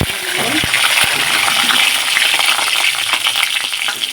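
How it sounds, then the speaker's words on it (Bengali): Panch phoron spices and two green chillies sizzle in hot oil for a mixed vegetable dish, a steady close frying hiss with a few sharp clicks and pops near the start. "তেলটা এখানে গরম হয়ে গেছে গো এই একটু পাঁচফোড়ন দিয়ে দেবো আর দুটো কাঁচা লঙ্কা"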